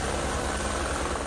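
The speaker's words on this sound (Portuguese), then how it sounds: "Pelo ar, helicópteros também davam apoio à ação." A helicopter supporting firefighters searching for victims after a mudslide, its engine and rotor making a steady, continuous drone that fills the short stretch with no voices.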